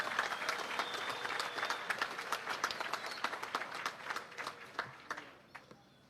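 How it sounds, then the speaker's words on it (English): An audience gives a resounding round of applause at an annual Guyana Defence Force event, dense clapping that holds steady and then thins out and fades near the end. "loud applause for that."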